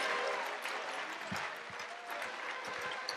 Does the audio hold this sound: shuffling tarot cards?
no